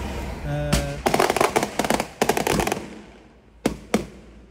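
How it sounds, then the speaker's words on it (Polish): Firecrackers go off in a favela in Manaus, Brazil: a fast crackling string of sharp pops, then two louder separate bangs, fairly close and echoing outdoors. "te petardy mogą oznaczać, że gringo właśnie opuścił teren faweli"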